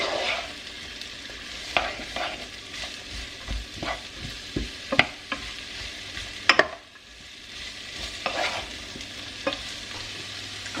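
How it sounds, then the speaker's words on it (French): Food cooking over high heat in a pan, stirred with a utensil: a continuous sizzle with irregular scraping knocks and taps against the pan, close and prominent, briefly dipping quieter midway before resuming, with no talk. "un peu à feu fort. Allez, je dirais à peu près 5 minutes, même pas, 4 minutes. Et en remuant"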